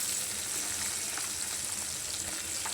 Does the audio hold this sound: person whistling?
no